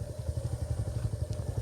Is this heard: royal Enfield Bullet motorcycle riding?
yes